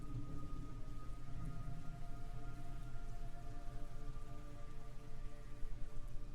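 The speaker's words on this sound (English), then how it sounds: "It's raining blood." Steady, even rain pours down in a Metal Gear Solid Delta: Snake Eater game scene, a dense unbroken hiss of falling water under a low rumbling bed, with a faint tonal drone running beneath it.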